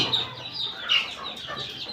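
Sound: native chickens clucking

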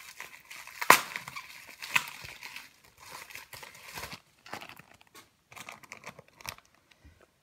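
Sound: unpacking a parcel, crinkling packaging

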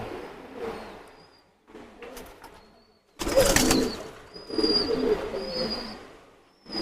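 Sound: Teddy pigeons cooing

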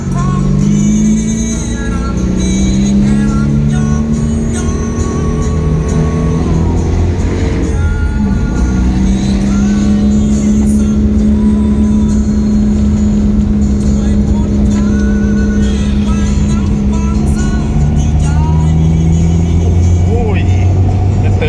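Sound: Honda City D15B fuel-injected car driving in third gear

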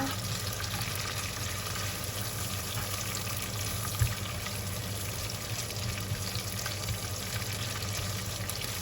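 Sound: stir-frying krachai (fingerroot) in a pan

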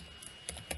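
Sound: typing a command on a computer keyboard

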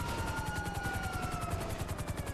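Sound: helicopter in video game GTA V

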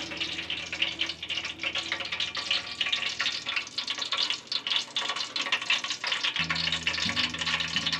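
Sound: baking soda fizzing as it neutralizes spilled sulfuric acid

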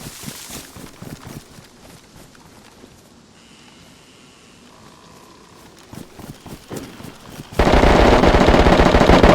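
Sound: gunfire in the video game DayZ

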